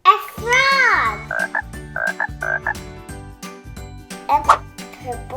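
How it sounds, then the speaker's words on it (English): A cartoon frog croaks in a bright, playful series of ribbits over a bouncy backing tune, loud and close, with a children's singing voice and rhythmic beats around it. "A purple frog."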